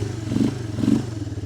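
A Honda Fourtrax 300 ATV engine, fresh from a carburetor clean, runs close by with a low, steady thrum, rising in two brief revs as the throttle is blipped.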